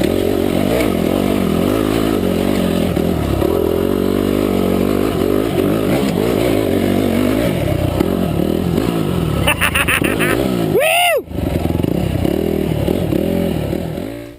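An offroad motorcycle engine revs loudly and continuously while the bike climbs a hill, its pitch rising and falling with the throttle, and a brief sharp whine cuts in near the end.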